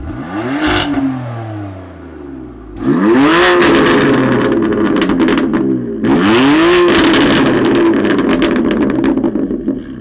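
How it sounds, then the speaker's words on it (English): A 2020 BMW M4 Cabriolet engine revs hard in three loud, close sweeps, each rise followed by a crackling run of burbles and sharp exhaust pops. "This definitely has more burbles and pops than the M3 CS"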